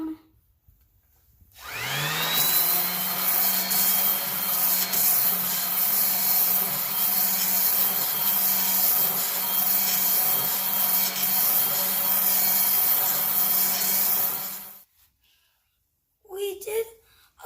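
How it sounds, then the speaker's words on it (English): Hand sanding of a hatchet's wooden handle, a steady broadband rasping scrape running continuously for about thirteen seconds, close and fairly loud, with a faint low hum underneath and brief quiet gaps at either end. "it's time to sand the handle down"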